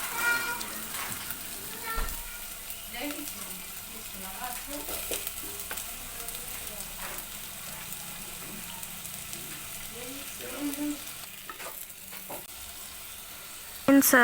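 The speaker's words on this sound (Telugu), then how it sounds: "ఆ బటర్ వేడయ్యాక అందులో 4 ఆనియన్స్ సన్నగా కట్ చేసుకున్న ఆనియన్స్ని వేసుకోవాలి" Thinly sliced onions fry in melted butter in a pot for paneer butter masala, with a soft, steady sizzle broken by intermittent scraping and stirring clatters of a spoon.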